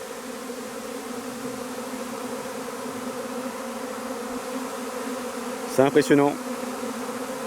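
Honeybee swarm pouring out of a hive, a dense, continuous buzzing drone throughout, with a few sharp louder passes of bees flying close near the end and a brief spoken remark.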